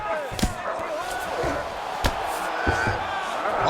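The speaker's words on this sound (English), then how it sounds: "Oh, good ground and pound here." Ground and pound punches land in a UFC 5 video game fight, several sharp thuds and slaps spaced through a steady crowd roar, with a commentator talking over the action.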